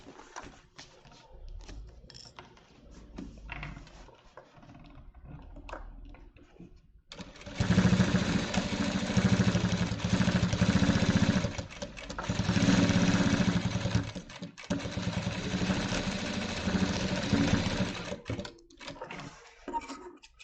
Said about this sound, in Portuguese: Vou passar agora uma costura de um pé de máquina por toda esta extensão.